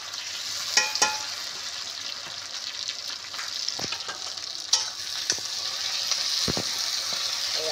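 Onions fried with tomato, green chili and ginger paste for a Bengali bhola fish curry make a steady, close sizzle, broken by a few sharp clicks and scrapes of stirring.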